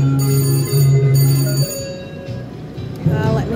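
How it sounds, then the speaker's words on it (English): A VGT red-screen slot machine in a casino rings after a win, giving a loud run of steady electronic bell tones that pauses briefly and then starts up again. "Now my machine's just gonna keep ringing and ringing."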